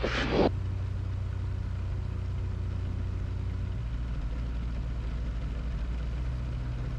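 A gyroplane engine runs steadily during rotor pre-rotation before takeoff from a soft runway, a constant low droning hum with a brief click at the start and a slight pitch shift midway.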